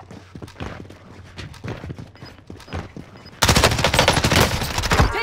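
Rapid automatic gunfire from a Warzone firefight, loud and dense throughout with sharp repeated bursts, swelling into a heavier, continuous barrage of shots in the final two seconds.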